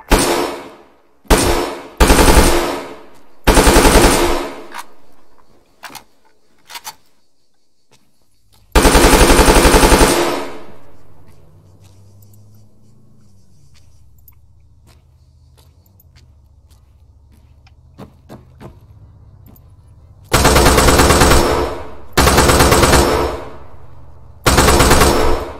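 Machine gun fire in the military shooter game Arma 3 comes in loud, close bursts, several rapid volleys early, a quieter gap with scattered single shots and faint engine rumble, then more heavy bursts at the end.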